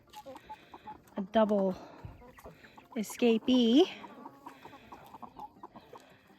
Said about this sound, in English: I have a very cute chicken in here.